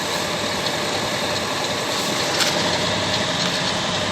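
A Ural truck's engine runs steadily off road, a loud, continuous low rumble with a broad mechanical roar and no break.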